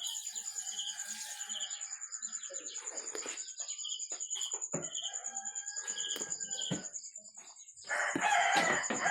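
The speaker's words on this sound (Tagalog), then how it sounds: "Ayan, mga sisiw, mga pinagpalang nilikha." A flock of chicks and chickens peeps and chirps continuously nearby, with thin high cheeps, scattered clucks and a louder burst of chicken calls near the end.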